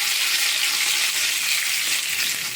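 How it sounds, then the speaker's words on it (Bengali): Sliced spiny gourd rounds frying in hot mustard oil give a steady, close, even sizzle that holds without a break and has no voices over it. "গরম তেলে এবার কাঁকরোলগুলোকে ফেলে দেওয়া হলো।"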